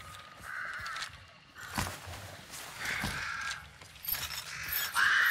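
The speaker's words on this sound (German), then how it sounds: "Oh, Raben." Ravens cawing in the horror shooter Hunt: Showdown, several harsh caws scattered across the stretch, mid-distance and fairly clear amid rustling ambience and faint mechanical clinks.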